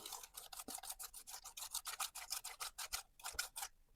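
Steel kitchen knife blade swept diagonally along its whole edge across a sharpening disc, a rapid series of about twenty light rasping strokes in steady rhythm, close and fairly loud.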